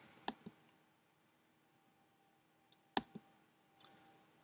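Computer mouse clicks while playing a farming simulation game, a few sharp close clicks in pairs, one near the start and another cluster later, in otherwise quiet surroundings.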